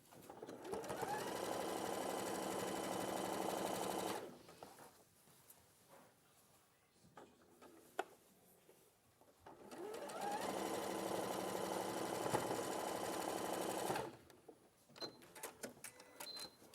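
A sewing machine stitching two fabric pieces together runs in two steady, even bursts of a few seconds each, separated by a quieter pause with faint handling sounds.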